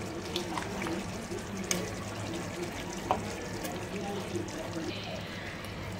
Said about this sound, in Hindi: अब हम पानी डालेंगे इसमें।